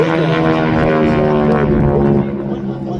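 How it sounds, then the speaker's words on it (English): A steady propeller engine drone from a WWII T-6 Texan training aircraft flying at an airshow, with strong harmonic hum, loud and close, easing slightly toward the end. "this is the World War II training aircraft"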